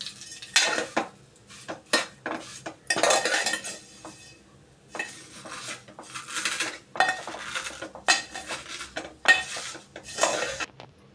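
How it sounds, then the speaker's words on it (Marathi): A metal spoon stirs and scrapes vermicelli roasting in a pan, giving repeated clinking, scraping bursts in an irregular rhythm with brief pauses, close and moderately loud. "त्याच्यामुळे सतत चमचा फिरवत राहा"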